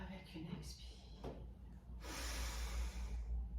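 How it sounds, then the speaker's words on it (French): A single audible exhale marks the close of a yoga warrior pose, a soft breathy rush of air swelling near the end after quieter breathing and faint movement sounds. "Et je ferme avec une expire."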